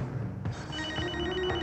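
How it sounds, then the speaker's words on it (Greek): A mobile phone rings nearby with an electronic ringtone, repeating tonal pulses heard clearly over a steady background. "Το κινητό σου, πρόεδρε."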